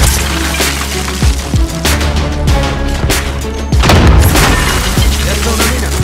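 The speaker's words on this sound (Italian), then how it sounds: "Bombardamento di precisione alleato!" Allied precision airstrike in Call of Duty Warzone, a rapid string of heavy booming explosions with crackling debris, loud and continuous, biggest blast near the middle.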